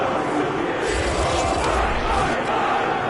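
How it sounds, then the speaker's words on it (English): Home crowd at a football game applauding and cheering, a dense steady wash of clapping and voices filling the stands throughout. "And the home crowd applauding"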